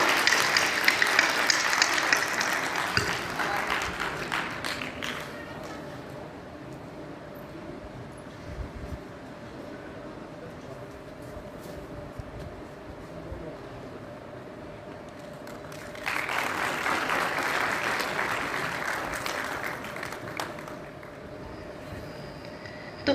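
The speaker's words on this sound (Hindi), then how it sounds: "तालियां बजाइए, रुक क्यों गए?" Applause from an audience at an award ceremony at an institute in Bhopal comes in two bursts, one at the start and a stronger one later. A quieter stretch with a steady hum and faint room noise lies between them.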